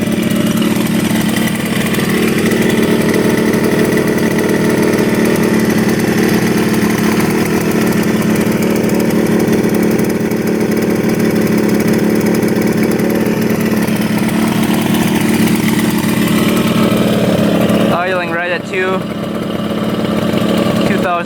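A rare two-stroke motorcycle, revived after 20 years in a barn, idles near 2,000 rpm with a loud, steady, close rattling drone; a voice cuts in briefly near the end.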